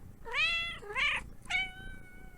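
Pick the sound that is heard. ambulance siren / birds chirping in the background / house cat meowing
house cat meowing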